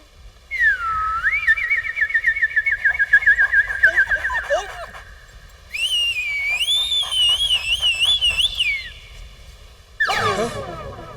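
A man gives a special call-back whistle in a comedy film: long, trilling, warbling whistled phrases, close and loud, separated by short pauses, followed by a horse-like whinny.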